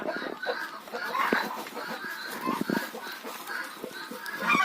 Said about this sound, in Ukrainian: Несися, курочка